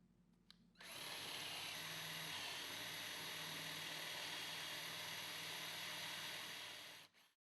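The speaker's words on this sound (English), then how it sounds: "Drill a 5/8-inch diameter hole 1/2 inch deep." A power drill bores a 5/8-inch hole half an inch deep into wood for a Murphy bed build, a steady high whine that starts abruptly, runs for about six seconds and cuts off.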